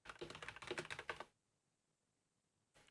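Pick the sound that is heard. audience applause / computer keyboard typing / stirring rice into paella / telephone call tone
computer keyboard typing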